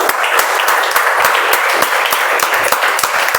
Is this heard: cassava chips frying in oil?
no